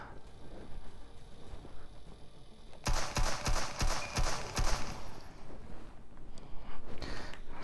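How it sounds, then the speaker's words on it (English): In the VR shooter Receiver, a rapid string of sharp gunshots rings out, about half a dozen close together after a quieter opening, with a few fainter reports trailing behind. "Six shots."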